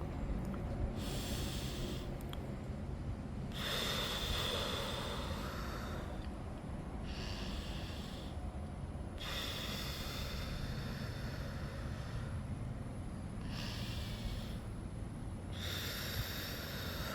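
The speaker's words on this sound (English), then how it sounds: "I just want you to take 3 deep breaths with me right now" Slow, deep breathing during a guided breathing exercise, several long, airy inhales and exhales in a steady rhythm, close and fairly soft over a low background hum.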